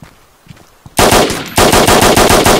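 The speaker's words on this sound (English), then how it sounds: "He's got an M4." M4 rifle fire in the DayZ video game: loud, sustained automatic bursts of rapid shots. It follows a quieter stretch of faint taps and movement, with a brief break between two long volleys.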